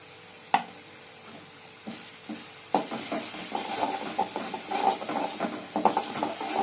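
Ginger and garlic sautéing in oil for a vegetable pickle, with a soft sizzle under repeated scraping and clinking stirring strokes that grow busier and louder midway.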